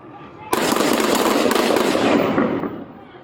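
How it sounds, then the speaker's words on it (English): Police officers firing their guns at an armed suspect outdoors in a wash: a sudden loud burst of rapid overlapping shots that crackles on for about two seconds, then fades. "Shots fired from my partners."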